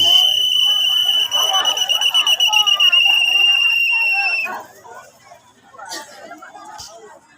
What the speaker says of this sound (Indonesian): Peluit panjang, nah akhirnya dimulai.